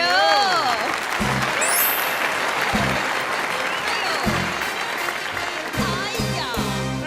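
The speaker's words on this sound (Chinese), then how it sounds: "好，今天的台视群星会特别来宾，让我们掌声欢迎刘福柱。" A television studio audience applauds continuously to welcome a special guest on a Taiwanese variety show, the clapping dense and sustained. Hosts talk over it with lively, sliding speech.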